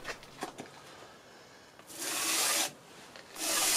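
A surface-ground lapping bar rubbed on sandpaper gives a few light scrapes at first, then two long, loud, gritty rasping strokes, close and alone.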